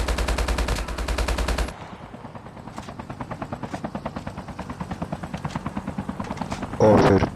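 Rapid machine-gun bursts and gunfire in a mobile shooter game (COD Mobile or PUBG), loud and sustained, with a helicopter's chopping rotor running under the shots after a steady opening burst and a louder blast near the end.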